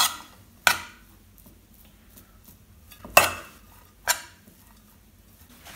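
A utensil clinks sharply against a bowl four separate times while grated eggs and grated cheese are mixed for a wild-mushroom salad, with quiet pauses between the knocks.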